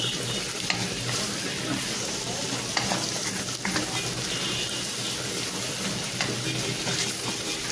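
Rice stirred as it fries in fat in a pan, a steady close sizzle with scraping strokes of a utensil running through it and no one speaking.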